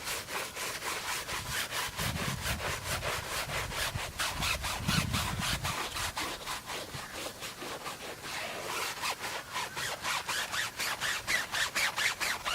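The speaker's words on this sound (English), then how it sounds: "You basically want to scrub until the foam becomes white" A foamy wash mitt scrubs the body of a 2018 Honda Civic hatchback in fast, even back-and-forth strokes, a rhythmic rasping rub that runs steadily and close up with no talk.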